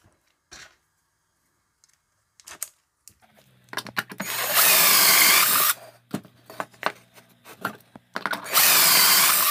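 A power drill fitted with a bit set in a dowel jig bores holes into wood in two loud, close bursts, with scattered clicks and handling knocks before and between them.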